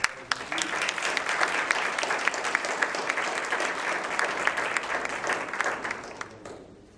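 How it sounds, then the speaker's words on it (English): A student government meeting audience gives a round of applause for honored students: dense, sustained clapping from many people at moderate distance, holding steady before tapering off near the end. "One more round of applause for all our"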